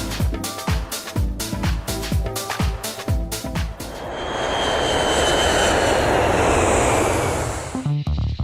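An ATR 72-500 turboprop with Hamilton propellers runs loud and close, a rhythmic pulsing drone for about four seconds that swells into a steady, broad roar, then drops back to the beat near the end.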